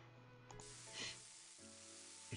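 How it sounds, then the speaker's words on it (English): A frying pan coated with mayonnaise rather than oil sizzles in the visual novel game The Fruit of Grisaia, a brief hissing fry that starts abruptly and holds steady, fairly faint with no talk. "She hits a frying pan coated with mayonnaise rather than oil"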